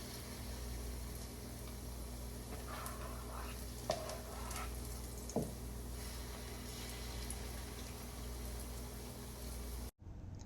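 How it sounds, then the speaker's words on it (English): Banana fritter batter frying in hot oil over a medium-low flame, giving a steady, soft sizzle throughout with a couple of faint clinks before it cuts off abruptly at the end. "My fritters are being fried."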